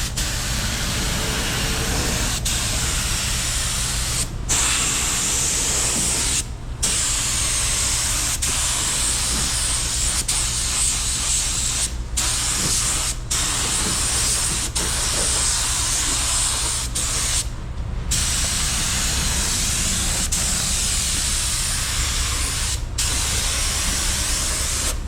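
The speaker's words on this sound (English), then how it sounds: "So we're gonna get the second coat put on here." A budget paint spray gun lays down a second coat with a loud, continuous hiss up close, broken by a few very brief cutoffs.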